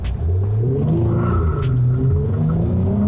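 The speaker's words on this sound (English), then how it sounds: "Now, let's do a quick 0 to 60 test." Nissan Altima Coupe launching in a 0 to 60 run, engine note climbing through the revs with a deep throaty roar, loud and close from inside the car.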